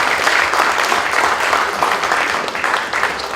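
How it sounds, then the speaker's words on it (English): Dense, steady applause from an audience at a press briefing, many hands clapping together without pause for a few seconds, loud and close. "please, a big round of applause to the Godfather himself"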